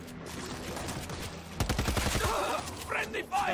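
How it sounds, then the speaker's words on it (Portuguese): Bursts of rapid automatic gunfire from a teammate ring out during a World War Z zombie-shooter match, with chattering shots near the middle and game noise and groans around them. "Eu vi um parceiro ali atirando aqui."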